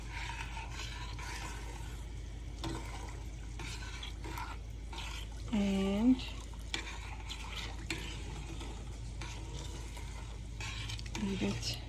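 A spoon stirs a salted Middle Eastern dish in a pot on the stove, giving soft scraping and clinking over a steady low cooking hiss, with a brief squeak partway through.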